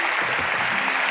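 A Turkish TV talk-show studio audience applauds in a continuous, loud wash of clapping, with no voices heard over it.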